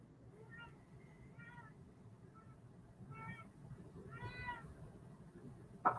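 Faint meows from a cat come in short calls in the background over a steady low hum, with one louder, longer meow near the end.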